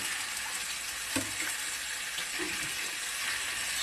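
Fish tipped into hot oil in a pan, giving a steady close hiss of sizzling broken by a few soft splashy bursts, with no voices over it.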